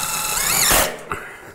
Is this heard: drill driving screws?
yes